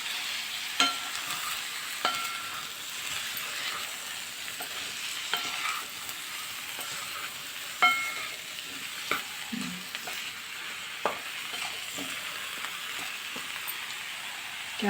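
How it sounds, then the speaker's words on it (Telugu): Stuffed eggplants stirred with salt in a pan of hot oil, a soft continuous sizzle with occasional clicks and scrapes of the spoon, close and quiet, no talk. "ఇందులోనే స్టఫ్ చేసిన వంకాయలు ఉంటాయి కదా, అవి వేసి కలిపేయండి."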